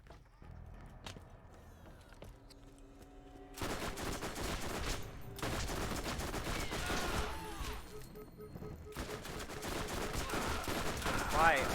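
Pistol gunfire and combat noise in the Borderlands video game, with sparse sharp shots early, then dense, loud bursts of firing and effects that continue almost without a break.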